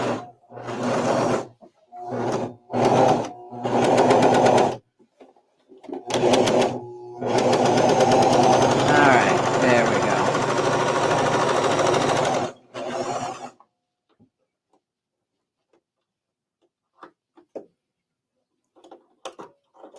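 A Viking serger sewing machine stitching in several short bursts and then one long steady run, loud and close, before falling quiet.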